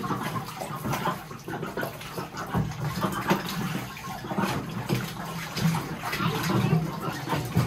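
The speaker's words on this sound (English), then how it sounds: "gotta drain the tub and give them some fresh stuff" Water in a bathtub holding ducks runs and splashes steadily as the tub is drained and refilled indoors, a continuous gurgling wash with some faint voices underneath.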